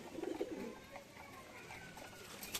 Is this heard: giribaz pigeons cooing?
yes